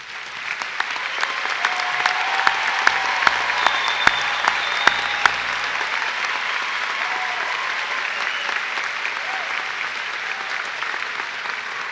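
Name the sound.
graduation audience applauding honor students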